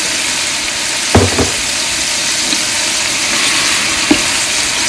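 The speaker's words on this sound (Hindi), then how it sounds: "और अब इनकी करेंगे भुनाई।" Tomatoes and spices fry in a pot for biryani, giving a steady, close sizzle with a few sharp stirring scrapes and clinks against the metal, and no talking.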